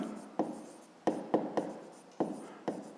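A pen writes by hand on paper during a math exercise, with scratchy strokes in short bursts marked by sharp taps, close and quiet, no voice.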